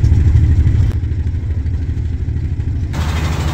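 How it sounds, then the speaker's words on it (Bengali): A large trawler boat's engine approaches with a loud, steady low chugging throb close by, continuous for a few seconds. "ওই যে একটা ট্রলার আসতেছে দেখতে পাচ্ছেন আপনারা, বিরাট।"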